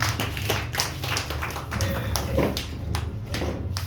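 A church congregation claps together at a service, a dense run of many hands with scattered sharper slaps, steady and fairly loud from start to finish with no voices over it.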